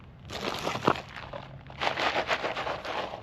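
Seeds rattling and crinkling inside a packet during January planting, close and fairly loud, with dry irregular shakes in two clusters and a brief pause between them.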